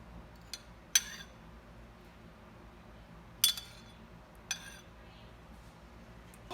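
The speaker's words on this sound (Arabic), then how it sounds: "ونخلط هذم المكونات تاوعي كيما هكا" A spoon stirs marinade ingredients, including oil and mustard, for oven-roasted lamb, giving a few sharp metallic clinks against the bowl spaced apart over a quiet kitchen background.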